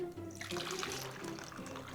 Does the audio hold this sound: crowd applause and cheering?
no